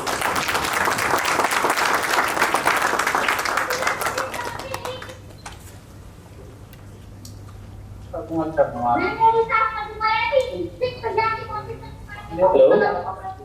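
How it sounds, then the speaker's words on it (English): Audience applause at a workshop session, a dense burst of clapping for about five seconds that fades out, followed by a pause and then people talking. "Let's have a huge round of applause for him."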